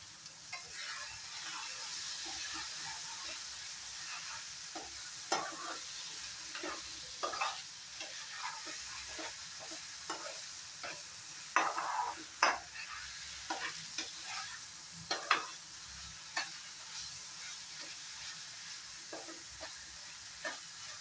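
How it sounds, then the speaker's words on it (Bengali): Tomato and spices frying in a pan for vindi curry, a soft steady sizzle with repeated clinks and scrapes of stirring, close and moderately quiet, with no talking. "মশলাটার সাথে টমেটোটা একটু ভাজা ভাজা হোক।"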